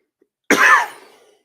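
A single close, loud cough from someone with a dry throat, one sharp burst that trails off over about a second.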